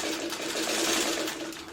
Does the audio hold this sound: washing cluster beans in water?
no